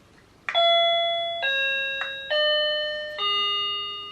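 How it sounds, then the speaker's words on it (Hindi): Melodic chime tones ring out about five times in an uneven sequence, each sustained note decaying slowly, signalling the start of a timed game in a reality-show-style challenge; no one speaks. "बजर बज गया"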